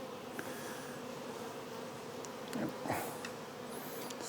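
A steady buzz of honeybees among small-leaved lime trees hums in the background, joined by a brief louder pass near the end, with no talking.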